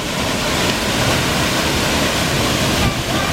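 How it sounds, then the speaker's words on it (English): A waterfall rushes with a steady, loud, broadband roar on a snowy mountain hike, holding an even level throughout with no breaks. "Right in front of the cool waterfall."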